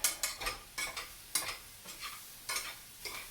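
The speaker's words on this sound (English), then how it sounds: "the onions are starting to turn brown. They're sizzling away." Steady sizzle of onions frying in a pan for chicken soup, punctuated by repeated scraping strokes of a utensil stirring, close and fairly quiet.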